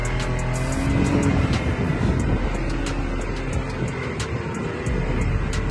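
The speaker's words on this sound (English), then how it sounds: "We then went out in the Can-Am buggies" Can-Am buggies driving through the Dubai desert, a loud continuous engine roar with steady rumbling and revving that stays close and dominant for the whole stretch, with no talk.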